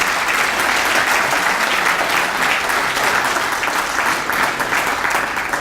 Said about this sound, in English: how about a big round of applause for the DoubleTree Hotel staff and the servers for a wonderful evening